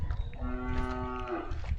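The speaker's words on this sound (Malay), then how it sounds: "lembu tu panggil" A cow on a cattle farm lets out a single long, close moo with a strong tonal call, heard alone against a low rumbling background.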